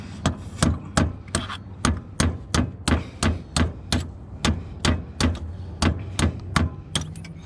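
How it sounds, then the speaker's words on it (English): A big hammer pounds on the CV axle parts of a JDM Version 7 Subaru Impreza STi, delivering a steady run of about seventeen loud, close metallic blows at an even pace with no pauses. "This is called the big fucking hammer."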